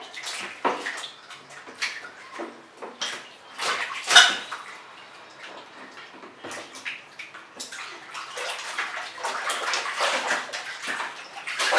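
A baby splashing water in a bathtub at bath time, irregular small slaps and sloshes coming in bursts, one sharper splash standing out, fairly close and moderately quiet with no talking.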